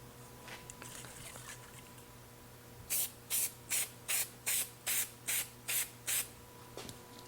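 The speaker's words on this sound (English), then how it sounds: "This is going to be a very rare example of me spraying any sort of an aerosol inside" Aerosol spray can released indoors in about nine short, sharp hissing bursts in steady rhythm, loud and close, after a quiet stretch with a low background hum.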